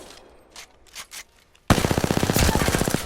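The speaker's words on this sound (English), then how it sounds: "all you have to do is just start firing" An automatic weapon in Apex Legends opens up after a few faint clicks and shuffles, firing a loud, rapid, evenly spaced stream of shots that runs to the end.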